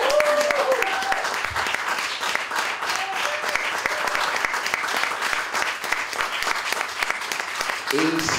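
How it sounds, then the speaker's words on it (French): Sustained audience applause fills a festival hall at a documentary film event on Isle-aux-Coudres, dense and steady throughout, with brief voices and whistles near the start and end. "Bonne main d'applaudissements."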